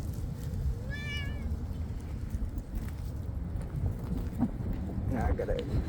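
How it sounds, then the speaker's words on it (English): A neighbour's cat gives a single clear meow over steady outdoor background noise, with a faint voice speaking nearby. "Look at the neighbor cat."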